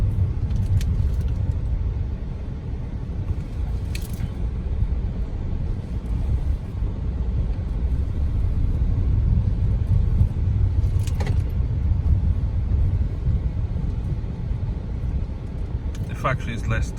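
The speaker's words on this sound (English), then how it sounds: "Driving out the hotel complex now." A car drives out of a hotel complex, with a steady low engine and road rumble throughout and occasional brief clicks and rattles over the continuous drone.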